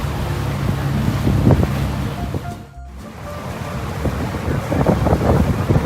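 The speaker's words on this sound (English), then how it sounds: "So cruising there along the Brisbane River." A boat cruising along the Brisbane River on a fine day, with steady water wash and wind rumble throughout, loud and close, dipping briefly midway before resuming.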